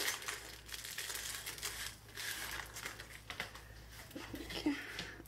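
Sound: plastic packaging bag being crumpled open

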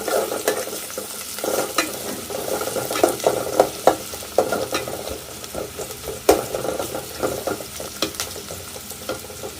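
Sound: chopped onions stirred and fried in oil

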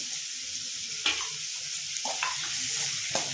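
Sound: frying and stirring poha ingredients in a pan

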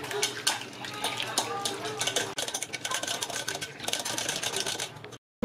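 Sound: stirring caramel mixture in a pot

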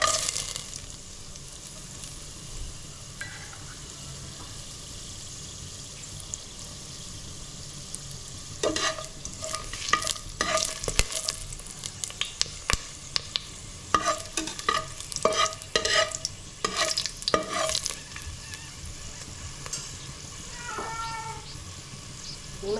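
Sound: whole spices frying in hot oil

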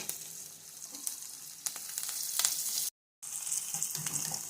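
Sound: curry leaves frying in oil

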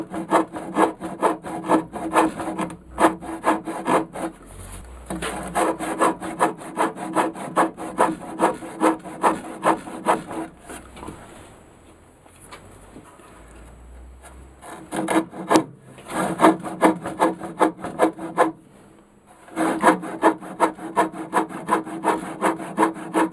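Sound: old hand saw cutting kerf marks into wood

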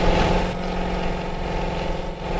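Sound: Hino dump truck climbing hill in Euro Truck Simulator 2 game

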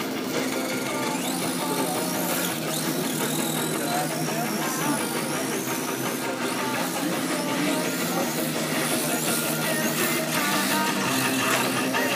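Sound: RC drift model Nissan Laurel C33 driving a fast drift lap

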